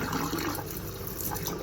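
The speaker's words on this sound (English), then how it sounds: "I will keep adding the water until it just comes just above this surface." Water pours into an autoclave chamber in a short, close, continuous splashing gush, filling the vessel over stagnant water being replaced.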